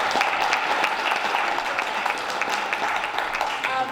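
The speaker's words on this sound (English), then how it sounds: "Can we give her another round of applause?" An audience at a political party youth conference applauds steadily, a dense wash of clapping from many hands at close range, lasting a few seconds without pause.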